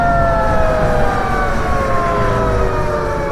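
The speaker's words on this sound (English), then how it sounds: "So that's just slowing down with the regen." Carbon fiber electric bike motor whining under regenerative braking, a steady tonal whine that slowly falls in pitch as the bike slows, over loud wind and road rumble, with no talking.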